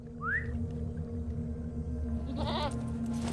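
A goat mount in the Lord of the Rings Online game lets out a short wavering bleat partway through, over a low steady game ambience, with a faint rising whistle-like tone earlier.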